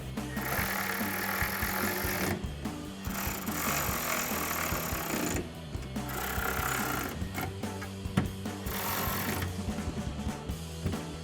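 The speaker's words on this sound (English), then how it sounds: "throw the socket on your ratchet, tighten down these 4 bolts" A socket ratchet tightens bolts while a Rough Country hard tri-fold tonneau cover is fitted to a 2022-2024 Toyota Tundra truck bed, giving bursts of rapid mechanical clicking at close range with brief pauses between them.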